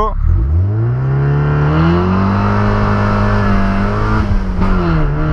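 Mazda MX5 with 110 hp and no exhaust, loud raw engine revving up hard in first gear with wheelspin, pitch rising steadily then dropping briefly near the end, close and continuous.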